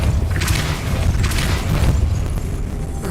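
Repeated Depulso spell casts in Hogwarts Legacy, a forceful booming blast effect followed by rushing whooshes, loud and dense across the clip.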